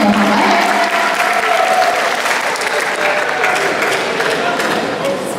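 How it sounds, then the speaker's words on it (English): An audience applauds steadily, a dense wash of clapping from many hands that holds level throughout and fades slightly near the end. "Give a round of applause to Muhammad."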